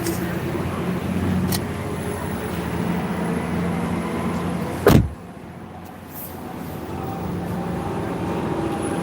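A Range Rover power window retracts with a steady motor whine that ends in a sharp thump as it reaches its stop, followed by a quieter cabin hum.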